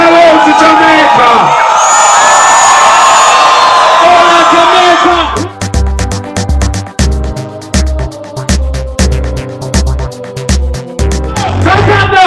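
A concert crowd cheers, whoops and yells loudly for several seconds, then gives way to a pounding beat with a voice speaking over it and cheers rising again at the end.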